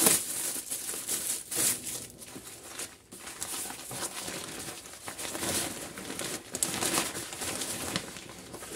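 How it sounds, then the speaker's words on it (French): A waterproof protective cover being unwrapped from its packaging: near, continuous crinkling and rustling of plastic with brief tearing bursts throughout. "Là, je vais la déballer avec vous."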